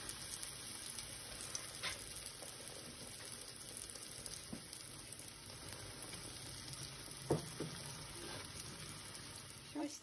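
Ukrainian stuffed buns called pyrizhky fry in oil in a pan with a faint, steady sizzle, broken by a few soft clicks and taps of handling, with no talk heard.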